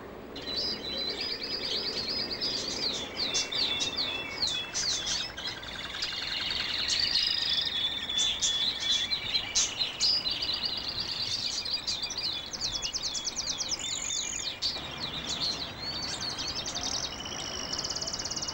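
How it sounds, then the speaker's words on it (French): Many birds sing and chirp together in Paris, a dense, continuous chorus of bright overlapping trills and tweets at moderate volume that carries on throughout with no talking. "le chant des oiseaux nous accompagnera partout"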